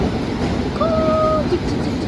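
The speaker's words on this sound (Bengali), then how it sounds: "ট্রেন এসে গেছে আমাদের" Loud, continuous rumble of a train arriving at a London station nearby, with a brief high-pitched squeal of wheels or brakes partway through.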